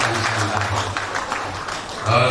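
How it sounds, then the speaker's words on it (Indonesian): Audience applause at a university graduation ceremony in Pematangsiantar, a continuous spread of clapping from a large hall crowd under a hum from a sound system, swelling slightly near the end. "Tepuk tangan untuk"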